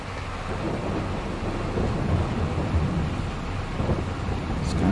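Steady rain with low rumbling thunder in the farming video game Farming Simulator 22, a continuous wash of noise with a slow rolling rumble underneath and no pauses.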